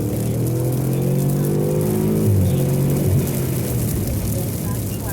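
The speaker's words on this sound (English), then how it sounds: "Listen to that exhaust." Car exhaust revving hard at speed in the rain, a loud rising engine note that climbs, drops and climbs again over a constant wash of road and wind noise.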